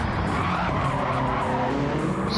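Race car in a championship series race skidding and sliding through an S-corner, tires scrubbing and squealing over a loud, continuous engine roar heard close up.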